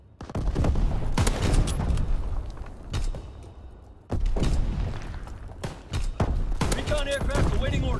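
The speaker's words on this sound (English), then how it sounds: "Strafing run inbound!" Aircraft strafing-run gunfire in a combat video game comes as bursts of loud, rapid booming shots with thuds, broken by a brief lull. Shouted voices are heard amid the firing.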